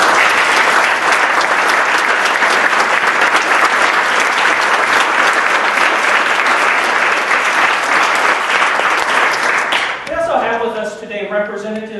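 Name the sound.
audience applause at moot court final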